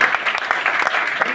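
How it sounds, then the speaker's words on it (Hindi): Audience members clap loudly for honourees at a motivational wellness event, brisk dense applause filling the short moment with a hint of voices mixed in. "एक बार जोरदार ताली पारस सर के लिए"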